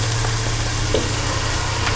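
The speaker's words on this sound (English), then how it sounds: "we just want to cook this flour through for a couple of minutes. This is what's known as a roux" Flour cooks in melted butter to make a roux for lamb and onion gravy, a dense, steady sizzle throughout with no talk.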